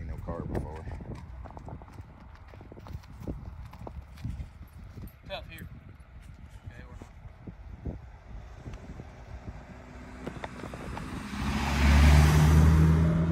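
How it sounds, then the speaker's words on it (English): A car approaches and grows loud near the end while hooves of a six-month-old Belgian colt clip-clop steadily throughout, with wind and faint voices in the background. "Here comes a car, and I know that baby ain't never seen no car before."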